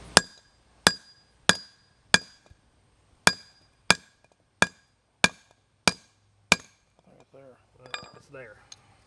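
A hammer strikes a wire connector to crimp it for a homestead solar power setup. About ten sharp metallic blows land at a steady pace, loud and close, followed by faint voices at the end.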